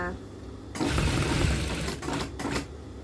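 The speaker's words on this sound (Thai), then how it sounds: "เราจะเย็บลงไปไอ้ตะเข็บเดิมยาวๆนะคะ ตะเข็บเดิมของเขานะก่อนที่เราจะเอี้ยวเข้ามา" A sewing machine stitches a long run along an original garment seam, starting after a brief pause with a loud rapid mechanical chatter, then slowing and stuttering in short bursts near the end.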